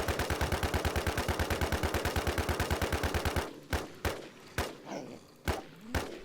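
Gunfire aimed at a boss in the survival game NewZ: a fast, even burst of automatic fire for about three seconds, then several separate heavy single shots with short gaps between them, loud and close.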